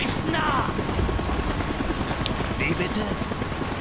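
An aircraft in the video game Call of Duty: Black Ops gives off a loud, continuous engine drone with a helicopter-like beating rumble, with brief sharp game sounds and faint voices over it.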